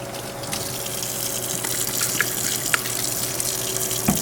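Water running into a sink while a syrup pump is flushed and cleaned, a steady close splashing stream with small drips and clicks, no talking.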